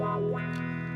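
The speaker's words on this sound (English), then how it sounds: "We'll do wah first." A single sustained electric guitar note with a wah pedal sweeping its tone down and back up, briefly and clearly.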